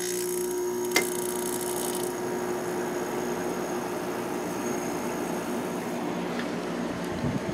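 A White Westinghouse 5,000 BTU window air conditioner runs with its compressor on, giving a steady broadband whoosh and low hum with a faint click near the start.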